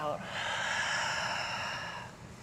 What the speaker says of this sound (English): Breath out.